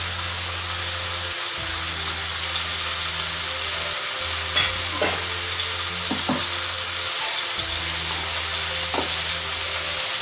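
Carrots and other vegetables for chicken soup frying in a pan, a steady loud sizzle running throughout with a low hum and a few light clinks of stirring, close by.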